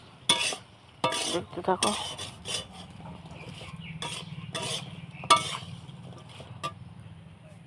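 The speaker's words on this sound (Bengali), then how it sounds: "যে আমি নুন হলুদ দিয়ে দিলাম, এবার কষাবো, কষিয়ে জল দেবো।" A spoon stirs and scrapes food frying in a pan with salt and turmeric, the sharp metallic strokes arriving in irregular bursts over a steady low sizzle, with a brief spoken remark partway through.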